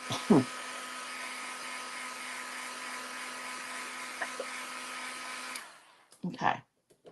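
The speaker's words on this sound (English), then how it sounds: "I'm going to hit this with my dryer for a minute," Embossing heat tool running steadily to dry wet ink on a stamped Christmas card, a loud continuous blowing whir with a high whine that stops abruptly near the end, followed by brief handling bumps.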